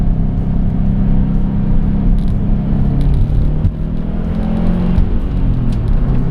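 A Subaru STI hatchback with all-wheel drive, used as a daily winter car, makes a steady, loud engine drone and road rumble from inside the cabin, with small rises in pitch as it pulls.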